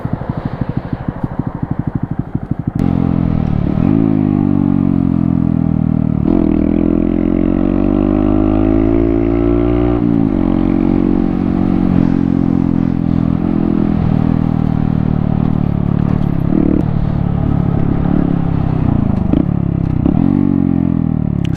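A motorcycle rides through city streets, its engine droning loudly and close. Clear rev rises and falls mark gear changes and speed shifts, and rushing wind runs underneath throughout.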